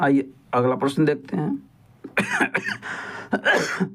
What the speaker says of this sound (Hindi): काफ़ी तेज़ से खांसी हो रही है